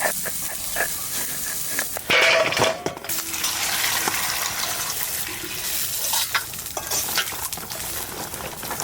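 Garlic and green chilies fry in a pan with a steady sizzle and crackle, broken by intermittent clanks, scraping stirs and brief splashy water noises. No talking.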